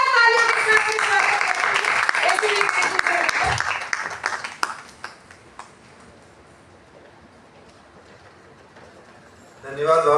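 Loud audience applause at a literary event at Hansraj College, Delhi, swelling for about four seconds before thinning into scattered claps and a quiet room, with another brief burst of sound at the very end.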